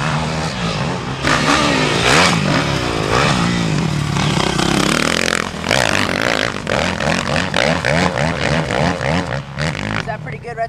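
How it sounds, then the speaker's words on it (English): Motocross dirt bike ridden through a section of whoops during a 2006 training day, engine revving and bogging continuously with rapid throttle changes, loud and near, with people talking over it. "That bike works really good through those whoops"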